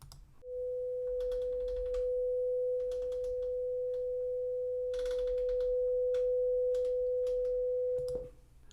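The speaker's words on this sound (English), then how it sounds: "let's switch our input tones to 500 hertz" A steady 500 hertz test tone plays through a Heathkit preamp, holding a single pure pitch for about eight seconds over faint clicking and mechanical rattles.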